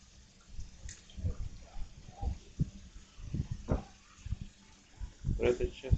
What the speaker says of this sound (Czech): Tady teče stále voda.